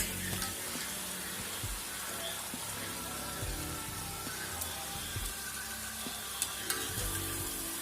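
Keerai masala vadai made with greens sizzle steadily in hot oil, a dense continuous crackle with occasional sharper pops and faint clinks, close by and with no talking.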